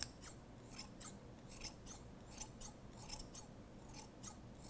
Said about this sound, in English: you're just going to essentially trim the pom-pom until it's even all over